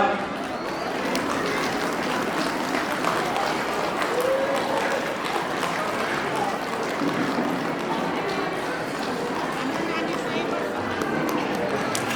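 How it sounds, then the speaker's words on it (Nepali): A crowd at a Tamu community gathering in Char Bhanjyang, Pokhara keeps up steady, dense applause for the whole stretch, with voices mixed into the clapping. "ताली बजाइदिनु होला।"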